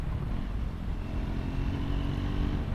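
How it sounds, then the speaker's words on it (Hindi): Triumph Scrambler 400 XC exhaust at a steady cruise, a continuous low rumble with wind noise layered over it. "बाकी एग्जॉस्ट की आवाज़ अच्छी आती है जब आप इसको क्रूज़ कर रहे होते हो"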